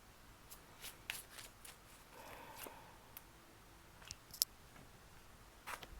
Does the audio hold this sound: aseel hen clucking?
no